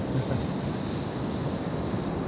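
Waves break on a beach with a rough shore break. A continuous wash of surf and wind noise holds steady and close throughout, with no talk.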